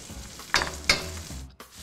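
Herb butter hitting a hot pan beside a roast beef, two sharp crackling spits over a continuous close hiss of frying fat, brief and fairly quiet.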